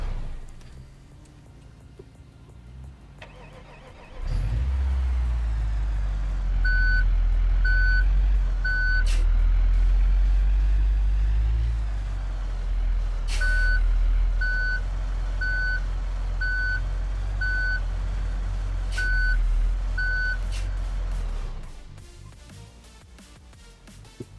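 A tall hauler truck in BeamNG rumbles through its engine while a reversing alarm beeps in evenly spaced bursts. The beeping stops and restarts, then the engine fades out at the end.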